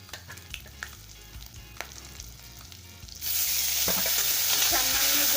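Grated ginger, green chilli and ground cumin and coriander spices hit a hot pan partway through, turning quiet clinks and taps into a loud, steady sizzle that continues to the end.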